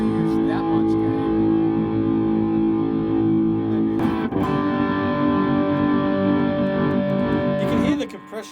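An electric guitar runs through a modified A/DA MP-1 preamp at high gain, giving thick, heavily distorted, compressed chords that ring on continuously, with a brief pick scrape near the middle before the sound cuts off near the end.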